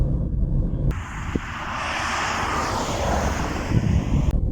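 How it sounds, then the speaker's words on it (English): A small Ford car around eight or nine years old, its engine running smoothly, gives a steady broadband rumble with wind-like rushing that swells slightly through the middle and carries on without voices. "This engine is actually really nice. It runs really well."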